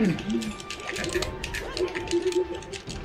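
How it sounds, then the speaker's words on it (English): Rapid controller button clicks during a game of Super Smash Bros. Melee, dense irregular tapping running under steady talking throughout. "Oh, all of the clicking! That's the sound of melee"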